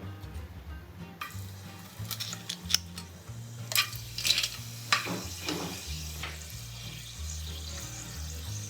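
Whole spices crackle and sizzle in hot oil for a chicken curry, with scattered pops and spits over a steady frying hiss, quiet and close, and some low rhythmic music or hum underneath.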